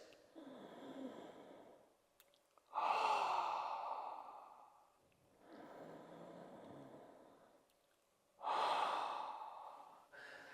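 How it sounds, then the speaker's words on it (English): Exaggerated ujjayi pranayama breathing drawn in through a finger held like a straw at the mouth: four long, hissing, rushing breaths alternating with quieter exhales, heard up close with no talking. "put your finger in your mouth like a straw and you inhale this way"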